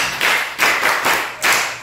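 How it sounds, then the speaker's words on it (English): An audience claps for student debaters at a school debate, four or five broad bursts of clapping in an uneven rhythm, fairly close and loud, with no talking. "Let's clap for them."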